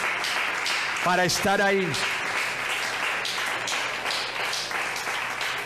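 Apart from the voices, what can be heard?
congregation applause in church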